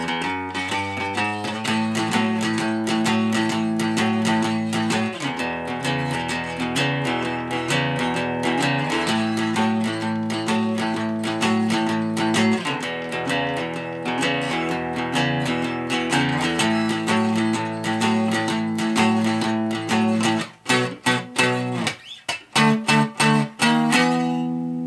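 Busy, sustained electric lead guitar solo over a steady backing, dense and loud throughout, breaking into choppy, staccato strums near the end.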